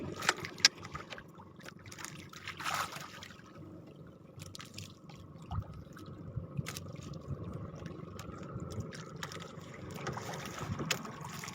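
A fishing boat's motor drones steadily while water rushes and splashes against the hull as it moves fast, with occasional knocks and spray throughout.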